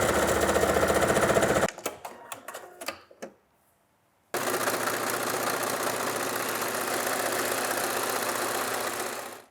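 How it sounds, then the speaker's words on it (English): A sewing machine stitches the side seam of a dress lining, running steadily and loudly up close, stopping briefly with a few clicks and taps before starting again for a long continuous run. "you can just sew straight down the side"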